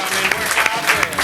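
Brief burst of studio audience applause during a French television talk show, loud, dense clapping for about a second, with a voice faintly under it.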